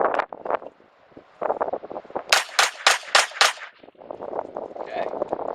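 Five sharp gunshots from a Kel-Tec SUB-2000 carbine crack out in an even, quick rhythm at close range outdoors, with wind buffeting and a voice speaking before and after.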